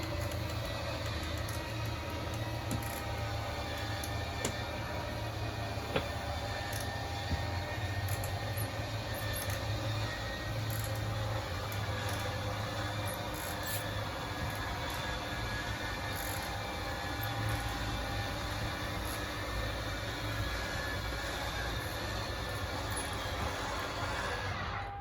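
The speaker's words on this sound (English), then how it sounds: "Slide out's going to start making its way out." A 2022 Forest River Tracer 190RBSLE travel trailer slide-out motor hums steadily as the slide-out extends, a continuous low mechanical drone with faint rattles, running alone for about 25 seconds.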